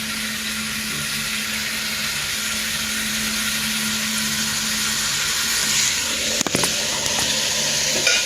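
Vegetables frying in a pan until brown, a steady loud sizzle throughout with a steady hum beneath and a few clatters of stirring toward the end.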